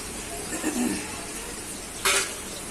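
Prawns frying in oil for prawn manchurian over a lowered flame, a steady close crackle and sizzle with a couple of brief utensil scrapes and knocks against the pan.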